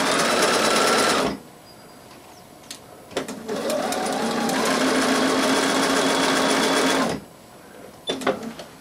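A sewing machine stitches a curved line of topstitching in two runs, a loud steady whirring burst near the start and a longer one in the middle, with quiet pauses between and brief faint clicks.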